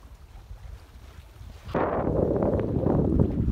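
A sailboat with a large genoa sails in the evening near Plymouth Breakwater, starting with faint water and wind noise before a sudden louder rush of wind buffeting and water hiss.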